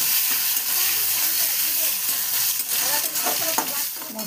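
Chopped tomatoes hit hot oil over fried onions and cumin for a fish-head curry, giving a loud, continuous sizzle with occasional stirring scrapes and pan clatter.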